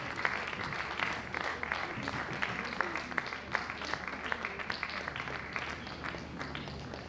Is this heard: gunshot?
no